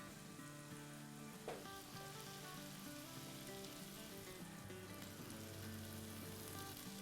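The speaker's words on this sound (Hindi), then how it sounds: "तो अब हम क्या करते हैं कि इसमें अपनी हरी प्याज डाल देते हैं" Masala frying for aloo bharta sizzles steadily in a pan as green onion goes in, a continuous crackling hiss with one brief sharper burst near the start and no talk.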